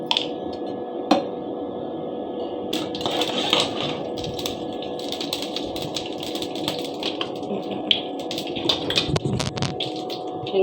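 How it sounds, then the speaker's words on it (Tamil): Mustard seeds sputter and pop in hot oil in a pan while cooking Indian broad beans, with sharp scattered crackles over a steady background hum. "கடுகு போட்டு"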